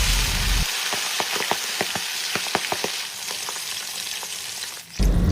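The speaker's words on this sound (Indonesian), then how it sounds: "Nah kalau udah tinggal kita masukkan aja si lelenya. Kita goreng sampai bener-bener garing ya guys." Catfish deep-frying in hot oil gives a steady, dense sizzle with crackling pops scattered throughout, fairly close and moderately loud, with no talking.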